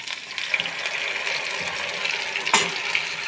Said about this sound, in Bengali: দেখো আমি এখন করছি, শুক্তো রান্না করছি।